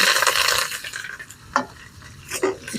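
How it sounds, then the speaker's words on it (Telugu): Chopped onions, green chilli, garlic and a sprig of curry leaves stirred in a pan, with scraping spoon strokes over a soft sizzle and a few sharp clinks against the pan near the end. "ఆనియన్స్ అనేది కొంచెం గోల్డెన్ కలర్ వచ్చేంత వరకు కలుపుకుందాం"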